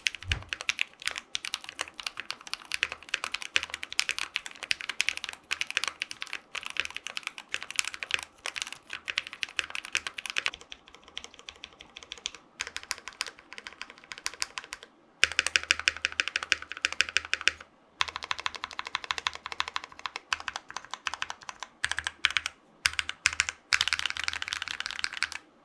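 Drop ALT mechanical keyboard fitted with modded Holy Panda switches typed on steadily and close up, giving dense, deep thocky keystrokes in a continuous run with a few brief pauses.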